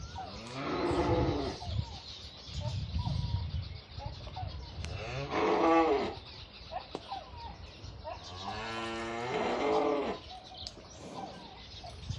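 A cow moos several times, long low drawn-out calls close by, separated by short pauses, with faint birds chirping in the background.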